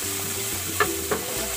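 Frying in reused oil left over from cooking chicken wings, a steady sizzling hiss with a few brief stirring scrapes and clinks, close and fairly loud throughout.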